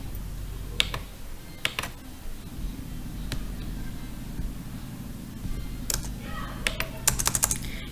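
Keys clatter on a computer keyboard as router configuration commands are typed, with scattered clicks and short bursts of keystrokes over a low steady hum, close and fairly quiet.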